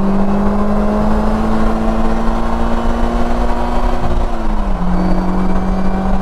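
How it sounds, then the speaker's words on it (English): A 2020 Polaris Slingshot E-Gear is driven loudly with its engine rising steadily, then a clear dip and shift around the four-second mark before the engine note carries on at a lower pitch. "Did you guys hear that shift?"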